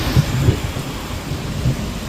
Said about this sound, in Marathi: चला बघू शकता खूप भयंकर पाऊस पडायला लागला